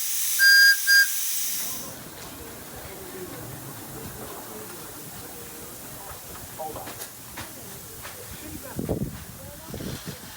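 A brief high whistle opens, then a steady broad hiss from the injectors of a 7.25-inch gauge Quarry Hunslet steam locomotive runs throughout, with occasional clanks and faint voices.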